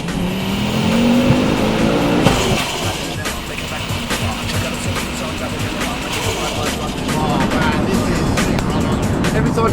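A 520hp Ford Focus RS Mk2 with a five-cylinder turbo engine accelerates hard, its loud rising roar broken by a sharp gearshift and followed by crackling, popping exhaust, with a person talking over it.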